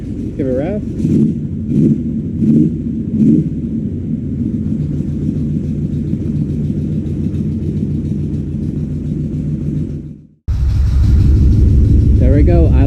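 A 1979 C3 Corvette V8 engine, car jacked up, roars steadily at high revs for about ten seconds, deep and loud, then cuts briefly before rumbling on again.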